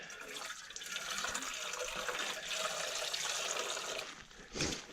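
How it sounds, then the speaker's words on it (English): Water pours and splashes into a cooking pot over a campfire beneath a rock overhang in NSW, Australia, a steady close, soft gurgling stream ending in a brief louder slosh. "I find the best way to clean a pot is just to put a little bit of water in there"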